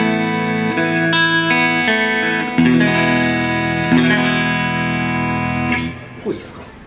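Sustained electric guitar chords through a Zoom G2 FOUR into a Roland JC-120 amp ring out with a distorted, effected tone and reverb, changing a few times before fading into faint handling noise.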